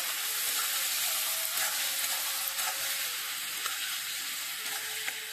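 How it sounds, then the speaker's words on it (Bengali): Ridge gourd (dhundol) fries in hot oil in a village kitchen, with a loud, continuous close sizzle. Occasional soft knocks come from stirring, and no voices are heard. "নাড়াই চাড়াইতে ভালো করে ভেজে নেব।"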